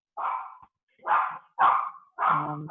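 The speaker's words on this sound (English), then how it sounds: "If it's not a child, it's a dog." A dog barks four times in separated, fairly close yelps with short gaps between them, the last bark slightly longer and more tonal, with no talking over it.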